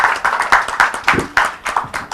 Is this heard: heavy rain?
no